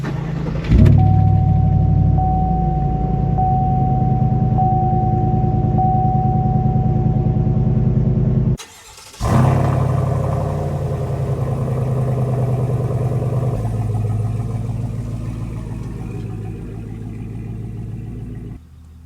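A Chevrolet Silverado 5.3 truck with an AWE exhaust rumbles steadily on the road, a deep continuous engine drone that cuts out briefly, then resumes and settles into cruising.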